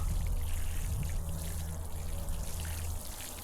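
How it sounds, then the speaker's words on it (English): Water from a hose pours and trickles steadily onto garden plants outdoors, a continuous close splashing rush with no talking. "Water them very well"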